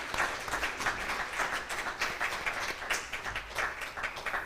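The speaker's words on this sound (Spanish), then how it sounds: "¿Qué tal si damos un aplauso" Church congregation applauding during a Spanish-language service, a steady patter of many hands clapping together throughout, moderately loud and continuous with no talk over it.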